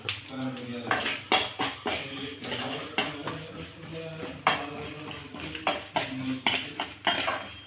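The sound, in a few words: stirring rice roasting in pan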